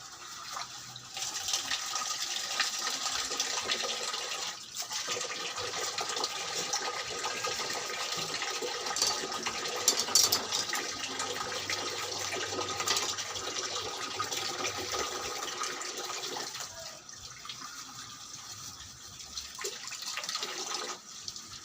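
Water runs steadily from a tap to soak small shrimp (alamang) for sautéing, a continuous rushing splash that holds for most of the time before thinning out near the end.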